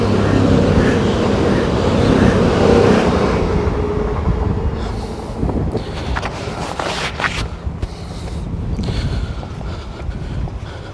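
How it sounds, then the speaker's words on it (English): A train runs along the estuary railway line at Starcross, Devon, a steady low rumble under heavy wind buffeting, with the roar easing and a few sharper bursts near the end. "Oh, here we go, another train."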